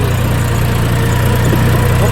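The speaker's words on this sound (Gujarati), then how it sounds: "ટ્રેક્ટર દબાતું હાલે અવાજ આવતો હોય છે તમને" A tractor labours while pulling a plough through a farm field, its engine a loud, close, continuous low drone with a steady throbbing vibration.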